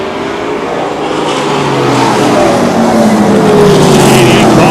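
Super short track race cars at an Oktoberfest race scream past in a loud, continuous engine roar that builds over several seconds, with overlapping pitches sliding as the cars go by.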